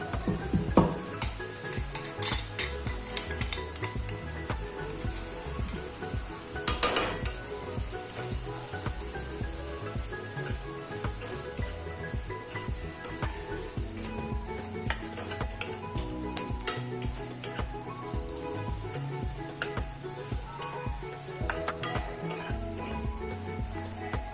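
A ground spice paste stirred into browned onions in a pan for a Maharashtrian bhindi (okra) bhaji, sizzling steadily with repeated spatula scrapes and clinks against the pan, close and continuous with no talk.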